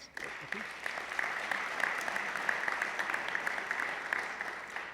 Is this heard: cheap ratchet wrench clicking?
no